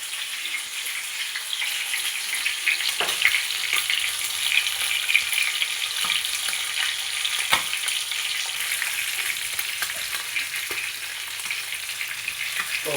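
Chicken pieces frying in oil in a pan for Arabian chicken mandi, a steady crackling sizzle with occasional sharper pops, close and continuous with no talking.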